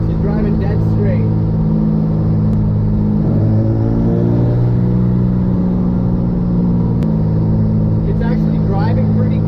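A 400-horsepower rear-engined car cruises at steady speed, its engine rumbling continuously with a shift in pitch partway through as it changes gear.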